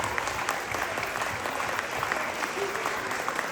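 Steady audience applause fills a hall at a Telugu Association of Switzerland Ugadi celebration, a dense wash of many clapping hands that holds at an even level throughout, with no voices over it.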